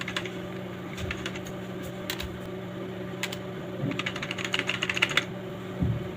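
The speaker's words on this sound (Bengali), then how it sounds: "এন্টার দিলাম আবার এন্টার দিলাম স্পেস দিলাম" Enter and space keys are pressed on a desktop computer keyboard. Scattered crisp key clicks come singly at first, then cluster in a quicker burst near the end, close up and without speech.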